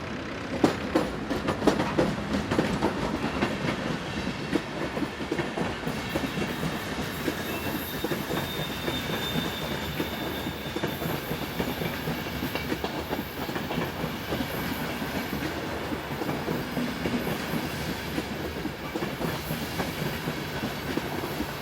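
Austrian Class 1216 electric locomotive 1216-237 hauling a long-distance passenger train from Villach to Hamburg through a station, a steady loud rumble with rhythmic wheel clatter and faint squeal running unbroken throughout.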